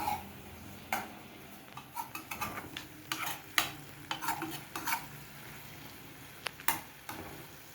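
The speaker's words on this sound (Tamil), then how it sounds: "இதை ஒரு லேசாக ஒரு கிளர் கிளறேன் பாருங்கள்" A spoon stirs green lima bean masala with grated coconut in a pan, with quiet, irregular scraping clicks over a faint, soft sizzle, close and unhurried.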